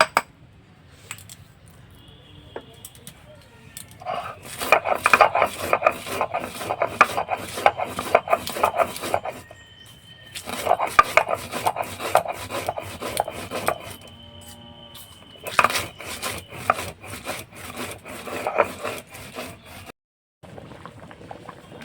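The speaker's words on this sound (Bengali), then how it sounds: "এদিকে আমি ভাজা মশলাটা একটু গুঁড়ো করে নেব।" Roasted spices being ground into powder for a mixed-vegetable khichuri, a long run of rapid, rhythmic rasping and rubbing strokes, loud and close, broken by a few short pauses.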